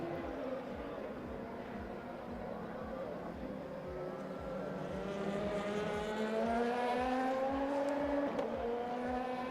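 Race car in a sim racing game lapping the final sector at Portimão, engine note steady then rising through upshifts and revs, continuous and close with a brief dip near the end.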